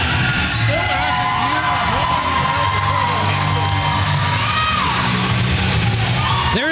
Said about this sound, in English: There is no denying that the crowd is firmly behind Kayla Sparks